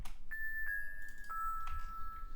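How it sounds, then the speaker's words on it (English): An FM synthesizer bell preset from Exact Light rings in an ethereal ambient track, a few soft, pure chiming strikes sustaining clearly over quiet low pads. "For this bell I just used a preset from Exact Light, which is an FM synthesizer."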